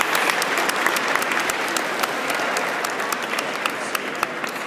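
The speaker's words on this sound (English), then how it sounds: "Another round of applause for his very" An audience at a Nelson Mandela "Legacy of Hope" event in New York applauds for Arun Gandhi, with dense, steady clapping from many hands that stays even and fairly loud throughout.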